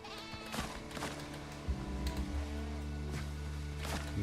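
A goat in the video game Windrose bleats repeatedly, wavering, nasal cries sounding close and loud over low game background sound, with no talking.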